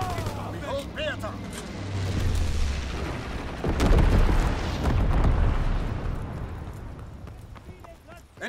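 Mortar and artillery fire rumbles in a Call of Duty WWII battle, heavy booming blasts swelling mid-way through a dense, continuous wash of combat noise, with in-game voices shouting over it.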